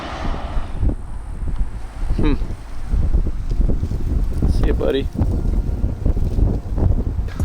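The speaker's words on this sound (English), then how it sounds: "it's gotten awfully windy out here." Strong wind in Texas buffets and rumbles across the microphone in continuous gusts while someone speaks briefly nearby.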